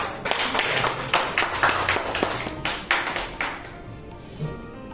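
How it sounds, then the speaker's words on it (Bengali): An audience at a live ball-game competition breaks into a burst of clapping that rolls on for several seconds, then thins out and fades to a few scattered claps. "জোরে একটা হাততালি"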